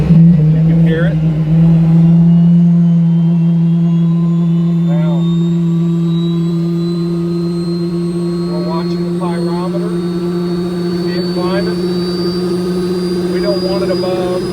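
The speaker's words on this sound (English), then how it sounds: "as it spools up" A Boeing T50 turbine engine fitted in a Batmobile spools up loud and near, a steady roaring hum with a rising whine, while someone talks over it.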